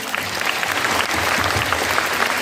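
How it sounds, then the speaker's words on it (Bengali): An audience claps steadily and densely throughout, a continuous burst of applause at an event with no voices over it. "তাই আমার তরফ থেকে প্লিজ ওনাকে একটা হাততালি"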